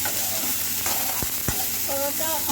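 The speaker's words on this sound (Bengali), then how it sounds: "এই তেলে আমি করলাটাও ভেজে নিচ্ছি।" Bitter gourd frying in hot oil in a kadai, giving a steady close sizzle throughout with two sharp utensil knocks partway and a clink near the end.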